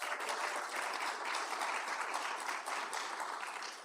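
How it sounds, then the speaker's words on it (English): Audience applause for veterans at a poll worker appreciation event in Houston, Texas, a continuous even wash of many hands clapping, moderately distant and fairly quiet, with no speech on top. "Let's give a round of applause to our veterans."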